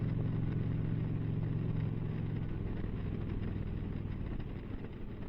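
Indian Challenger motorcycle engine droning steadily while riding, a low rumbling hum with constant wind and road noise, fairly loud and close, easing slightly toward the end.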